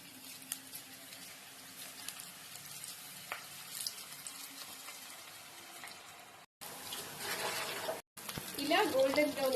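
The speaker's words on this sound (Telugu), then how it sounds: "ఇలా గోల్డెన్ బ్రౌన్ వచ్చేంత వరకు ఫ్రై చేసుకోవాలి." Onion pakodi frying in hot oil in a pan, a soft steady sizzle and patter that grows louder and busier in the last few seconds, with brief cuts in between.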